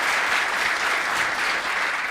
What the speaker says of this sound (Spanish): Un fuerte aplauso para María.